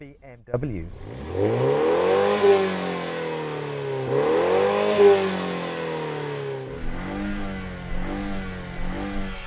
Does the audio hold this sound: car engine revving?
yes